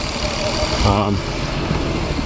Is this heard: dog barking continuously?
no